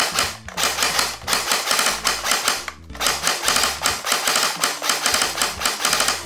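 A Krytac P90 airsoft electric gun fires in rapid rattling bursts, close and loud, with fast mechanical clicking runs broken by brief pauses between strings of shots.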